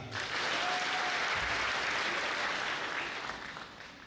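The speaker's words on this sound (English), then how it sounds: "Give Malema a big clap." An audience applauds at a political event welcoming Malema to Kenya, with a dense, steady wash of clapping that holds loud for several seconds and then tapers slightly toward the end.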